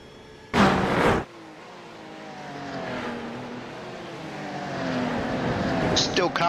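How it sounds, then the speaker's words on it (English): Porsche GT3 race car heard onboard during a GT3 racing series, its engine note rising and shifting steadily with a brief loud burst near the start, while another voice talks over it. "On board with Loshy in the Porsche."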